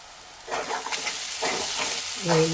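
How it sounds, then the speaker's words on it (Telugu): Ginger garlic paste frying and being stirred in a pan for anda bhurji, with soft sizzling and scraping stir strokes in bursts, close up and moderately loud, no talking. "అల్లం వెల్లుల్లి పేస్ట్ మోస్ట్ ఇంపార్టెంట్ ఫ్రెండ్స్ అదైతే మంచిగా వేగిపోవాలి"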